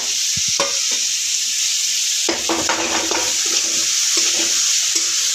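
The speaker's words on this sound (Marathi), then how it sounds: "व त्यामध्ये टाकायचे आहे हिरवी मिरची" Green chilli and tomato sizzle steadily in a pan for a cauliflower paratha filling, with a constant frying hiss and a spatula scraping and stirring in bursts from the middle onward, close and without talk.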